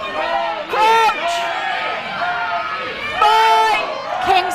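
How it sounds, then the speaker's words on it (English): Crowd at a university varsity rugby match rising in bursts of cheering and shouting, a loud close roar swelling twice amid general babble. "Kings have got some more noise in the crowd now."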